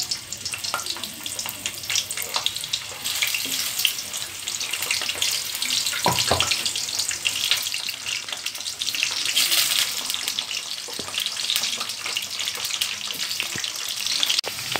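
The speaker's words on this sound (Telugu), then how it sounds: "ఈ దొండకాయల్ని ఇందులో వేయించుకోవాలి।" Ivy gourds (tindora) fry in a hot pan with a steady, bright sizzle and crackle throughout, with occasional sharper pops and soft clinks of stirring, close and fairly loud, with no talking.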